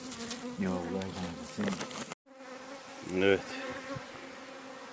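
Honeybees crowd an outdoor sugar syrup feeder, their close, loud droning buzz rising and falling as individual bees pass near, broken by a brief silent gap, with a single short spoken word partway through.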